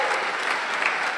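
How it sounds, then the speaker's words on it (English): Church congregation applauding at an Easter Sunday service, a brief burst of steady, even clapping from many hands, fairly distant and moderate in level. "So how about a round of applause"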